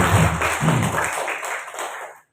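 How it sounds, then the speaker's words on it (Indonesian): Applause from a seated audience at a teachers' workshop on the Merdeka curriculum for MTs Ma'arif NU 3 Grabag: a short, steady burst of clapping under a low murmur of voices, fading out at the end. "Tepuk tangan untuk MTS."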